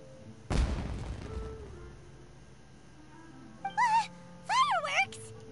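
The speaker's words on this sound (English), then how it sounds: "Was that an explosion? It sounded like fireworks." Fireworks exploding in the video game Genshin Impact: one sharp, loud boom that fades over about a second, followed a few seconds later by short voiced character sounds.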